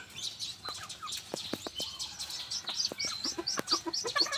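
Chicks chirp and hens cluck softly in a coop, a steady patter of high peeps and short calls close by.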